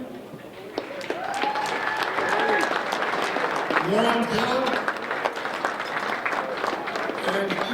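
At a lacrosse Hall of Fame induction, the audience breaks into applause for absent inductees, with clapping swelling beneath a voice announcing names before the clapping carries on alone.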